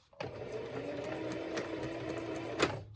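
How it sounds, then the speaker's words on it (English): A sewing machine stitching a paper project on a beginner's piece, running in one steady continuous whir close by for nearly three seconds, starting abruptly and ending with a brief louder clunk. "So now I'm going to stitch all the way to my corner, keeping my project lined up with my presser foot."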